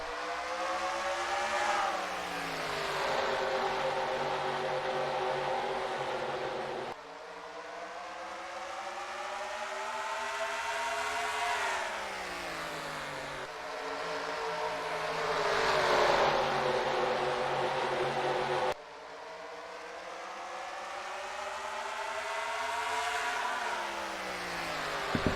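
Stock cars race at North Wilkesboro in a racing video game, engines droning loudly with rising and falling pitch as cars sweep past in long repeating waves, alone and without talk.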